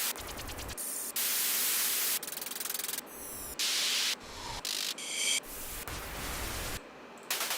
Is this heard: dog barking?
no